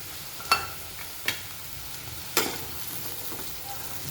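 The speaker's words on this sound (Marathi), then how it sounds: "आता हे सगळे मसाले छान आपण परतून घेऊया" Spices and pavta beans sauté in a pan for a Maharashtrian rice dish, a soft steady sizzle broken by a few sharp scrapes and clinks of a spoon stirring against the pan.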